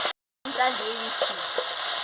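Dried chili powder and spices sizzling and frying in a pan while being stirred, a loud continuous hiss after a brief silent gap, with faint scraping and clinks.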